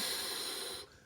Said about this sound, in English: length to the out breath as you exhale through pursed lips